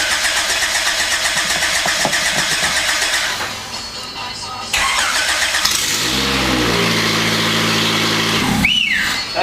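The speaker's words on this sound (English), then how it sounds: "Oh, it started in gear. It started in gear." A 3GEE engine, the second one, cranks and catches, then runs at a loud steady idle, with a brief surge near the end.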